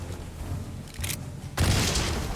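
Rifleman attack in the Wargroove 2 strategy game: a faint rumble, a brief burst near the middle, then a loud booming shot with a sustained blast tail at the end.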